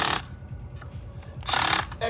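Power tool tightening the top-end bolts of a CMEP OL motorcycle engine rebuild in a cross pattern, with short buzzing bursts at the start and end and a lower mechanical rattle between, close and fairly loud.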